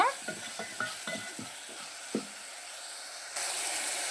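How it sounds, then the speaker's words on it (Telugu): Four dried red chillies and softening tomatoes frying for garlic rasam: a crisp sizzle with a quick run of stirring taps and scrapes, then the hiss swells louder near the end. "అలాగే ఒక నాలుగు ఎండుమిర్చిని కూడా వేసుకొని ఫ్రై చేసేసుకోవాలి"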